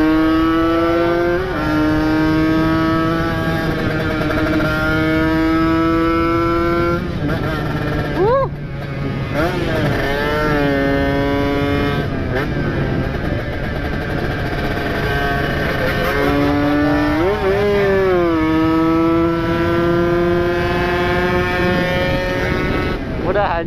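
Two-stroke Kawasaki Ninja motorcycles speed along a road in daytime traffic, engines droning loud and steady with rising, falling revs through gear changes, tones sweeping up on acceleration; a voice talks over it at times.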